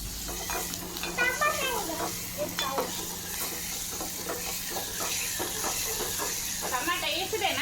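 Ginger paste sizzles and hisses in a hot pan while being stirred, with scraping strokes throughout and voices talking intermittently over the steady frying.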